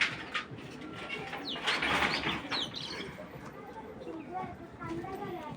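Pigeons cooing in a loft of racing pigeons, soft repeated coos with some wing and foot noise, close by and moderately quiet throughout.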